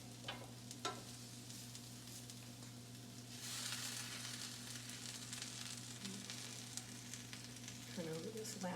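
Apple rings char on a hot griddle with a steady, close sizzle, punctuated by a few soft scrapes and clicks, rising slightly in intensity midway and holding through to the end without any voice.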